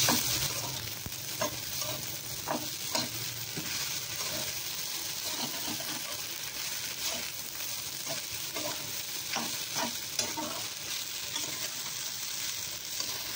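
Sabudana khichdi fries in a pan while a spoon stirs it, giving a steady close sizzle broken by frequent scraping and clinking strokes that continue throughout with no talking.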